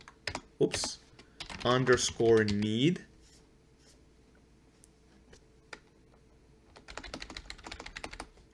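Keyboard typing into a component search field in a game-development tool, heard as light scattered clicks under a man's speech at first, then a quick burst of keystrokes near the end.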